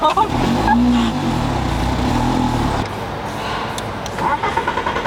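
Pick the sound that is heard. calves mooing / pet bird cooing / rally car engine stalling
rally car engine stalling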